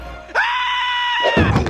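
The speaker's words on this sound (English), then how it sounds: "His scream is just perfect." Homer Simpson lets out a single sustained, loud cartoon scream in a Treehouse of Horror episode, holding a steady pitch for about a second before breaking into ragged, choppy sounds.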